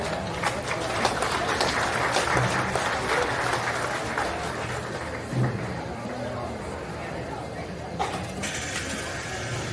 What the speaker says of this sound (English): Let's give all of our home race exhibitors a nice round of applause.